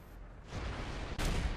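A tank cannon fires in the World of Tanks video game at an enemy T30: a sharp, loud blast arrives abruptly about two-thirds of the way through, over a steady rumbling battle noise.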